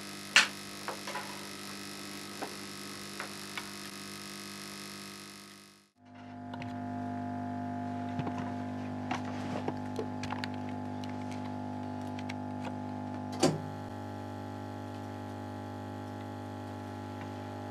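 A mercury arc rectifier gives off a steady electrical hum with layered tones. It drops out briefly, then returns fuller, with scattered small clicks and crackles and a sharper snap later on.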